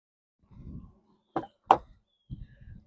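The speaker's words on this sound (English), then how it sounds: "All you have to do is pull this lever up, seat folds flat." The second-row seat of a 2025 Infiniti QX60 Luxe AWD is folded flat by pulling a lever: a soft low rustle, then two sharp close clunks, then another low shuffling rumble, with no talking.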